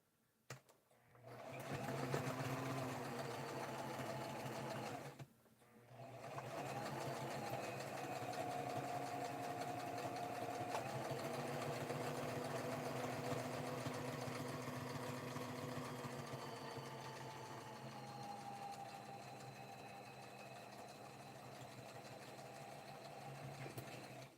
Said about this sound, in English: I'm going to restitch over what I've already sewn.